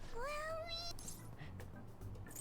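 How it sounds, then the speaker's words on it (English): A cat character, Morgana, in the video game Persona 5 Royal gives a clear rising meow, followed by softer game sounds and faint voices in the background. "Every time we press Morgana on the head, he has to meow."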